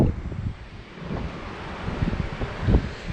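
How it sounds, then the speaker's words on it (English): Strong offshore wind at Chicama beach in Peru buffets the microphone, making a steady, gusty rumble that swells and fades, with a faint wash of surf in the background and no voices. "The predominant wind direction is offshore, and it can get quite strong offshore."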